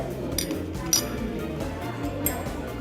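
A glass U-tube for a school chemistry electrolysis experiment gives a few sharp, close clinks as it is handled, with brief bright ticks under low room noise and faint talk.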